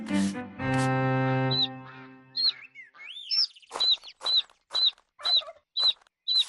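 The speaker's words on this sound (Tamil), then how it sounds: "அந்த கோழி என்ன பண்ணிட்டு இருக்கு?" A cartoon chicken clucks in a rapid series of short, sharp, high-pitched calls near the end, after a sustained musical tone and a few rising squawks.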